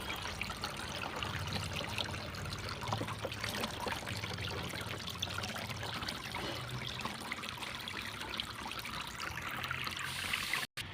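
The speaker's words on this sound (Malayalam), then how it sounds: "ഇതാ ലെവലിൽ എത്തുന്നവരെ നമുക്ക് ഈ വെള്ളം ഒഴിച്ചു കൊടുക്കാം" Water pours from a container onto coco peat, about twenty litres in all, soaking it. The soft, steady trickle runs without a break and stops abruptly just before the end.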